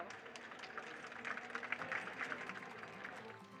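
An audience applauds after a question-and-answer session on Malmö, with a burst of scattered clapping swelling in the middle and tapering off, fairly distant in a large room.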